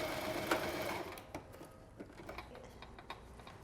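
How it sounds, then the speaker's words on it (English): A sewing machine runs in a fast rattling burst, then slows into a few separate clicking stitches, close and fairly quiet. "So I've reached my end, so I'm back stitching."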